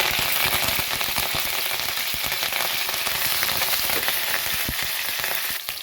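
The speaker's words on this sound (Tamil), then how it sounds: "வெங்காயம் நல்லா வதங்கட்டும்" Sliced onions and curry leaves fry in hot oil in a pan for Tamil meen kulambu fish curry, giving a steady, close, dense sizzle with crackling pops throughout and no talking.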